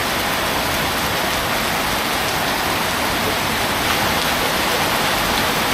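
Heavy rain pours in a dense, unbroken hiss, loud and steady throughout with no voices.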